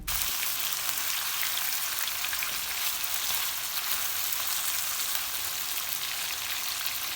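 Chicken karahi fries in a pan with a steady, loud, hissing sizzle that stays constant throughout, with no talking.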